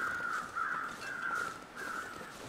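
Crows caw repeatedly in the wilderness of the survival game The Long Dark, where two small groups of birds gather; harsh, raspy calls come in a steady sequence of three or four drawn-out caws over a faint ambient background.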